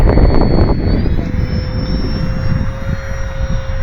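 An E-flite P-47 Thunderbolt 1.2 m electric RC model airplane on a 4S battery flies past outdoors, a loud, close motor and propeller whine with rising and shifting pitch over buffeting wind noise.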